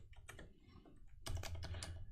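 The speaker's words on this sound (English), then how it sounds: "spam the keyboard there" Rapid, busy typing on a computer keyboard while coding a number-reading program, a dense flurry of keystrokes that grows louder and more frantic partway through, with no talking.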